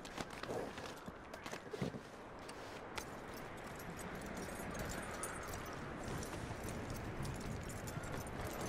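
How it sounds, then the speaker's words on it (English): Horse hooves clip-clop on the ground in Red Dead Redemption 2, a fairly faint, steady rhythm of hoofbeats under low ambient noise. "That looks like a decent horse."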